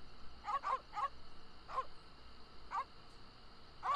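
Dogs in The Secret of Monkey Island video game give several short, sharp barks and yips at irregular intervals over a faint, quiet background.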